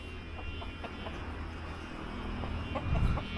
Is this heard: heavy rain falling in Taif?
no